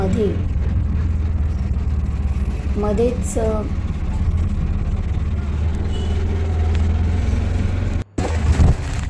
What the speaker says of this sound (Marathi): आम्ही डी मार्टला रिक्षाने जात होतो